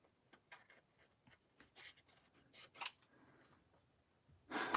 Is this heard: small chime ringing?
no